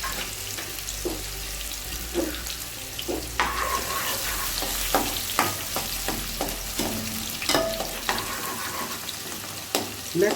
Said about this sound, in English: the oil is heated. I'm just adding onions to it.